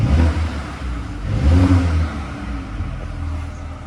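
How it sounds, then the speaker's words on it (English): A Mercedes-AMG A35 in dynamic mode gives a short, throaty burst of exhaust revving with rough, uneven pulses, then falls back to a lower rumble, moderately loud and heard from inside the car. "you can tell the exhaust note has already changed on the car"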